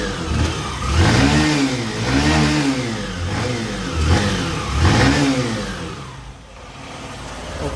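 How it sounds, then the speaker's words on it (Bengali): A Hero Passion Pro BS6 motorcycle engine running after starting, revving up and down in repeated swells, about four rising-falling pulls close by, then settling back toward idle. "দেখতে পেলেন একই গাড়ি স্টার্ট হয়েছে"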